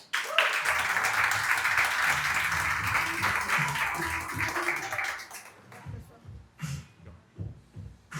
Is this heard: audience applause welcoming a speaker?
yes